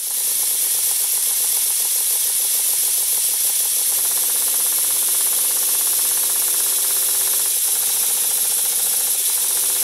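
A Stuart Double 10 model steam engine runs on compressed air, giving a steady, loud hissing exhaust with rapid rhythmic mechanical chuffing throughout, with no voices.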